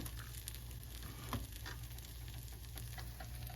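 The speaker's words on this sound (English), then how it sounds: "And now let's add our onions." Chopped onions dropped into a hot pan and frying, a steady close sizzle throughout with a faint stir or clatter partway through and no talking.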